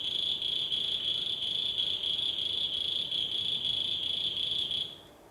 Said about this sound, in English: Again, one of the commonest toad in Bangalore and arid areas. So the call pattern is something like this.